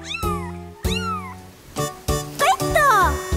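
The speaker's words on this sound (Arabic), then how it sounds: "هناك سمكة تموء الآن في البحر الطريف." Cartoon cat meows come from a meowing fish in a Dora the Explorer animal rescue episode: a series of clear, drawn-out, pitch-bending meows, close and prominent, getting quicker toward the end.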